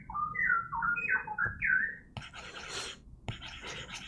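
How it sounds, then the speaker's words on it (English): A bird gives a run of loud, sharp squeaking calls in quick succession, rising and falling in pitch, followed by scratchy rustling noises. "I forgot what the name of this bird is, but it has a very loud squeak."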